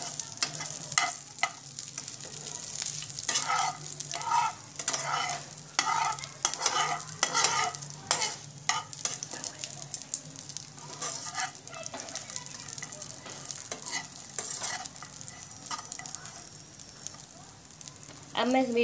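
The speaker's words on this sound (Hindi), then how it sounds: "इसी में बादाम डाल देती हूँ जो कि थोड़ा सा सिक जाएंगी" Almonds roast in a hot pan for a falahari fasting chiwda, giving a steady close sizzle broken by repeated scraping stirs throughout.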